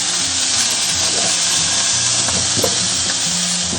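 Beef steak searing in a smoking-hot iron wok with oil over medium-high heat, a loud continuous hiss and crackle of frying fat with small pops scattered throughout.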